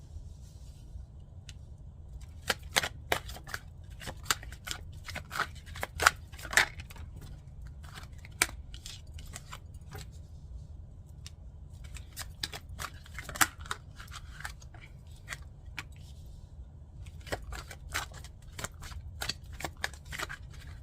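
Tarot cards laid out one by one on a table: a long run of faint, sparse, sharp card snaps and slides, some in quick clusters, over a low steady room hum, with no talk.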